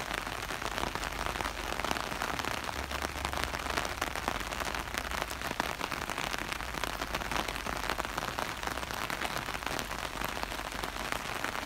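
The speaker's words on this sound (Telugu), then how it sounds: "వర్షం ఎక్కువగా ఉంది లోపలికి కదమ్మా" Heavy rain pours steadily and densely outdoors around a hotel in Gstaad, a continuous close hiss with no talking.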